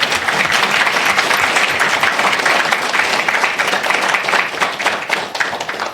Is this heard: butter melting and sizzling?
no